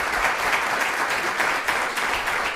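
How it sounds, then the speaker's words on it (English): A lecture audience at an astronomy talk applauds the speaker, sustained, even clapping from a roomful of people, loud and continuous for the whole stretch. "Let's give Nolan one more hand of applause."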